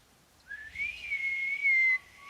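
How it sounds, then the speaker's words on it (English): Whistling used to call horses in the video game Ghost of Yotei: a single rising whistle held steady for about a second and a half, clear and fairly loud over a quiet background. "Maybe if you try whistling."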